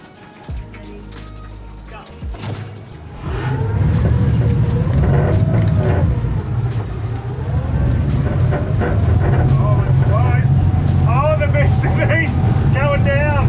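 The outboard motor of a Stabicraft 1850 Fisher Profish boat revs up from a low idle into a loud, steady, droning roar as it races across the water, with wind rushing over the microphone.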